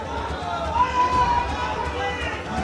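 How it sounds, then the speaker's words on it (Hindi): A crowd storming a university vice-chancellor's office chanting protest slogans, a loud, steady mass of agitated voices shouting together at close range with a continuous roar. "अचानक भीड़ घुसती है और मुर्दाबाद के नारे"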